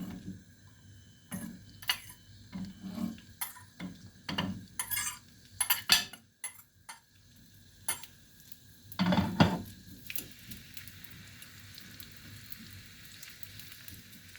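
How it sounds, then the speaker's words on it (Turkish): Metal utensils clatter and scrape against a pan of peppers frying lightly in oil, in scattered bursts, with a faint sizzle building underneath toward the end. "İlk önce biberlerimi kızartacağım hafiften."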